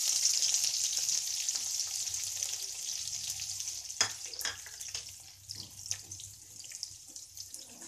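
Onions hit hot oil already seasoned with cumin and asafoetida, bursting into a loud, bright hiss that gradually eases, broken by a few stirring knocks and scrapes nearby.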